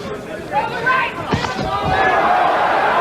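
A boxing crowd reacts to Sims' left hook on Mayweather, a swelling roar of voices with sharp shouts rising midway, under a commentator talking over it.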